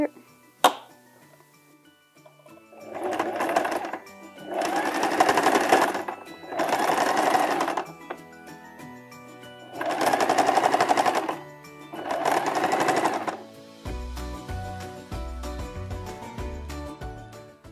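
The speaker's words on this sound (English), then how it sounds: "So I'm gonna start sewing" Sewing machine running in four bursts of steady stitching as straps of folded fabric are sewn, loud and close, with brief pauses between runs and softer plucked tones near the end.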